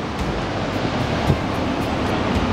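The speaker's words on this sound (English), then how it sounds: "you can see that the sea is really crazy right now" Stormy sea surf on the coast at Diamante, a steady loud roar of crashing waves with broadband wash and some wind buffeting across the whole span, no voices.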